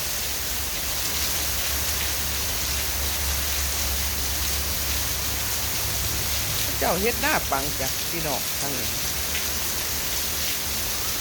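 Steady rain hisses on a surface throughout, a dense even patter, with someone speaking briefly partway through.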